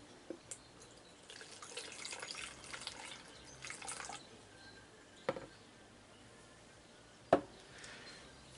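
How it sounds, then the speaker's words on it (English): Fresh water being drawn off the top layer of a halocline tank, faint trickling and dripping with a few sharp plops and splashes against a quiet background. "I'm going to just take away a little bit of the fresh water because I think there's a bit too much there on top."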